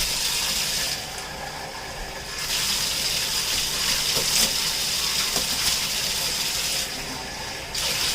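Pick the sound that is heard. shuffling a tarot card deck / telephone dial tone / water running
water running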